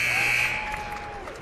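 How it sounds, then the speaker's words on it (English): Basketball game-ending buzzer at a boys high school game, a loud sustained electronic buzz about a second long that fades out over faint crowd noise. "and the buzzer goes."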